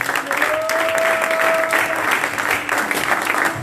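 Church congregation applauding steadily after a closing prayer in a French-speaking evangelical service, dense clapping filling the room for several seconds, with a sustained sung or held tone briefly above it.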